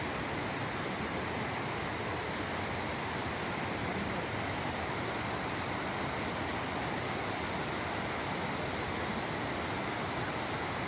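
A seven-step waterfall near a forest village in Chhota Changey Mairungaon gives off a constant, even rushing roar, dense and unbroken throughout, with no other sounds standing out.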